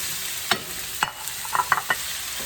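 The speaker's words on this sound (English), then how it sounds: "I put a little bit of oil here just to kind of apply the base of the pan." Salmon frying in about half a tablespoon of oil in a pan, with a constant sizzling hiss broken by a handful of light scraping and stirring knocks.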